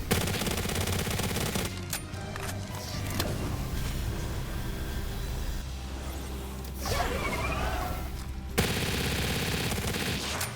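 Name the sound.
gun firing in Palworld video game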